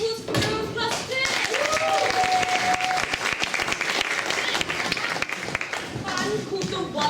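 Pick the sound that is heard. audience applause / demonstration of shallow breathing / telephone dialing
audience applause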